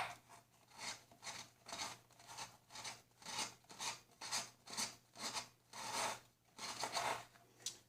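Hook blades score an aluminum mini can in a rhythmic series of close, rasping scrapes, about a dozen strokes stripping metal in a steady back-and-forth pattern with no talking.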